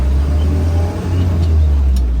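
Land Rover Series 2a engine droning steadily while driving on a country road, a loud low rumble close up inside the cab with a brief dip in the middle.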